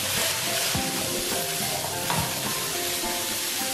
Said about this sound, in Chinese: 再把莲藕加进来，翻炒片刻